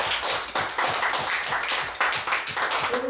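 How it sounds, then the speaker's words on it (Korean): A church congregation claps along in a steady, lively rhythm of many hands, continuing through the whole stretch at moderate loudness. "손뼉 한번 쳐주세요"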